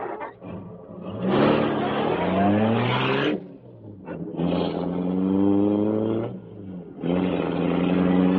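An old-time radio drama car effect: an engine revs up and pulls away in three drawn-out surges with rising pitch and brief gaps between them, loud and close, with no talking over it.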